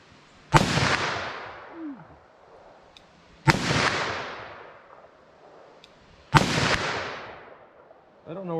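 Three loud, sharp .357 Magnum gunshots firing Hornady American Gunner ammunition, spaced about three seconds apart outdoors, each with a long decaying echo, and a brief voice sound at the end.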